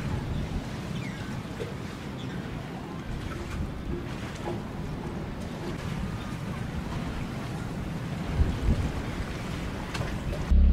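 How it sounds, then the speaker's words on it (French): Constant rushing of ocean water and swell around a sailboat off Martinique as Hurricane Elsa passes, with wind gusting to 25 knots buffeting the microphone throughout; no clear individual wave breaks stand out. "Waouh, il y a des belles vagues."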